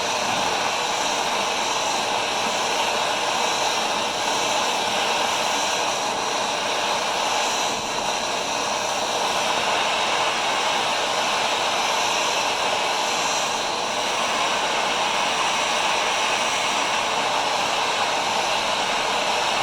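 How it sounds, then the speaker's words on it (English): A torch heating the expansion chamber of a Ski-Doo MXZ 600 snowmobile roars in a steady, loud, unbroken hiss that lasts throughout. "I apologize if the torch is too loud."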